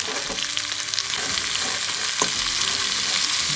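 Squid stir-frying in a pan for a dry roast, with a loud constant sizzle broken by a few sharp scraping stirs, no talking.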